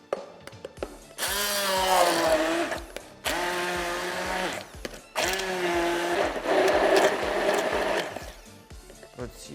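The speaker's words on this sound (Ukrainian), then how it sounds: "пробиваємо блендером та пускаємо через сито" A blender purees peach and strawberry, whirring loudly in three long bursts, its motor pitch shifting as it runs, with brief pauses between pulses.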